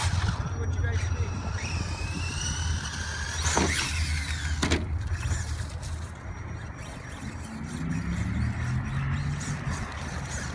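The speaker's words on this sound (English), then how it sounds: "We got the Evo Associated short course truck, 2-wheel drive." A Team Associated two-wheel-drive short course RC truck drives outdoors, its electric motor whining and rising and falling in pitch over a steady rough rumble, with people talking nearby.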